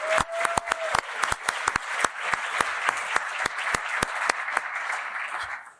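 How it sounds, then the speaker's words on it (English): A gala audience gives a steady round of applause for active-duty service members and veterans, with sharp individual claps ringing out clearly over a dense, sustained bed of clapping that continues for several seconds before fading. "Let's give everyone a round of applause."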